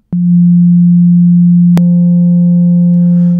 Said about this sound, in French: l'onde sinus pure, dépourvue d'harmonique, change de forme et surtout commence à générer des harmoniques provenant de la saturation du signal